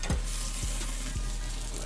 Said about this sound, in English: Let's get that fat toasted up.